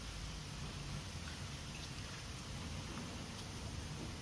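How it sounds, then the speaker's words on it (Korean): Heavy rain falls outdoors at night as a soft, continuous hiss, steady and rather faint, with no voices over it. "비가 이렇게나 내려요"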